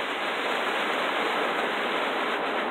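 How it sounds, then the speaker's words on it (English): Heavy pouring rain outdoors during a storm, a steady dense hiss with no breaks, fairly loud and close. "it's pouring rain out"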